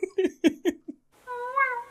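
A few short spoken syllables, then a brief pause and a sustained, rising-falling meow imitated by a voice.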